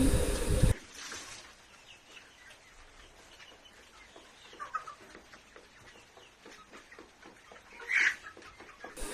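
Scattered soft clucks and fowl calls from several chickens on a poultry farm, fairly faint against a quiet outdoor background, with one louder squawk near the end.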